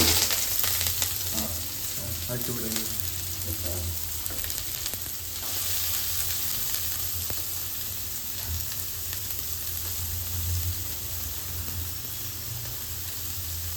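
Onions and masala frying in a pan, a steady broadband sizzle running throughout with a low rumble beneath and occasional stirring scrapes early on.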